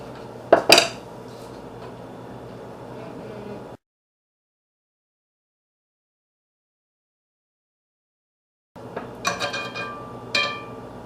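Metal spoons and utensils clinking against pots and dishes while sauce is spooned on top in a home kitchen, a few sharp close clatters, then a stretch of silence, then more scraping and clinks.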